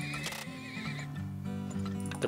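Whinnying horse from the video game Turmoil, tied to a horse-drawn wagon, neighs with a wavering high call over steady clip-clop hooves and a continuous musical backdrop, fairly close and without speech.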